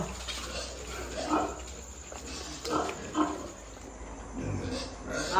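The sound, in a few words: pigs and newborn piglets on a farm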